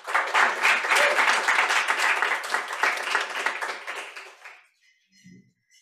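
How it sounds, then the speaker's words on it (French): A lecture audience at a French-language science talk claps to welcome the next presenter: dense, close applause that fades out after about four and a half seconds, followed by near silence and a brief faint voice. "j'espère que vous l'accueillerez avec un grand applaudissement"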